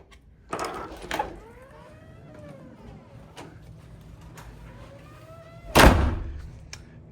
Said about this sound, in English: Door's a little rough